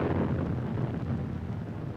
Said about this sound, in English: there's always a terrific explosion